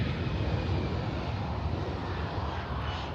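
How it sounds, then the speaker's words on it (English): An airplane flying overhead outdoors gives a steady, broad engine drone that holds at an even level throughout, with a faint hum and no talking. "Pardon the plane in the background."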